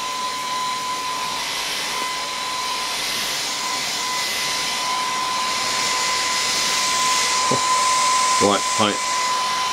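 Philips Active Cool 1650 hair dryer running on high heat, a loud steady whoosh of air with a constant motor whine that lasts throughout, while a few brief words are spoken near the end.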